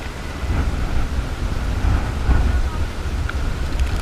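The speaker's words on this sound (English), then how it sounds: "Oh, the wind is blowing crazy." Powerful wind blows outdoors on a late summer night, a dense rumbling roar pressing on the microphone without a break, loud and close, with faint voices barely audible beneath it.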